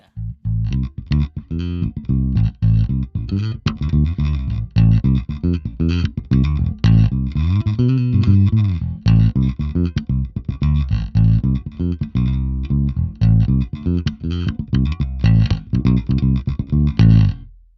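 A clean, dry Fender Aerodyne Special Jazz Bass plays a steady run of plucked notes through amp emulation, with a round low end, continuous and up close with no voices.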